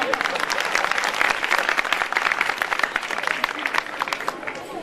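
Audience applause at a Hindi comic poetry gathering, a dense burst of many hands clapping that stays loud and steady for about five seconds with crowd noise mixed in.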